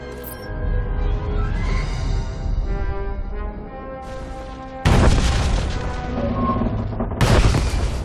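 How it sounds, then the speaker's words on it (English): Detonated charges explode in the Star Wars Jedi Knight game on planet Voss: two loud, deep booms with long rumbling tails, the second following a few seconds after the first, over a layered musical score. "The charges are detonated."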